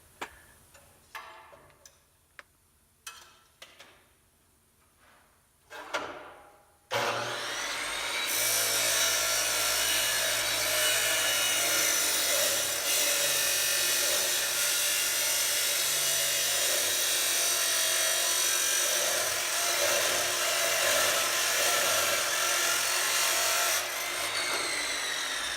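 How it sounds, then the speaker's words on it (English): Taps and knocks of metal stock being set up come first, then a chop saw cuts through metal stock for an iron tree sculpture, a loud, continuous grinding whine that runs for about sixteen seconds before ending abruptly. "we start off with the chop saw, cutting up a bunch of material to work with"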